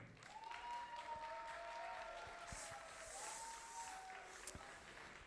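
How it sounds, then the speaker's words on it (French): Steady applause from a crowd fills the whole stretch, dense and even, with a few faint tonal sweeps drifting over the clapping. "Mesdames et messieurs, s'il vous plaît, sous vos applaudissements, Stéphane Eutin."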